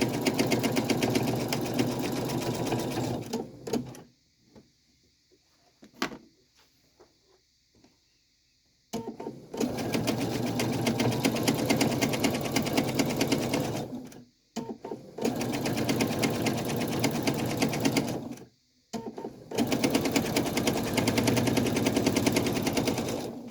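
A sewing machine free-motion quilting fabric runs in loud, rapid stitching bursts of several seconds, broken by short pauses and one longer quiet stretch.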